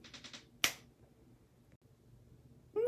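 One sharp, crisp finger snap rings out in a quiet room at home, preceded by a few brief soft sounds and followed by near silence.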